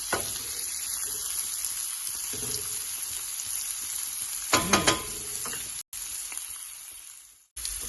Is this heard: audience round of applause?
no